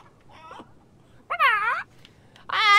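A chicken bot clucking in the video game Fortnite: three short, bright warbling calls over a quiet game bed, the first faint and the last two loud and close.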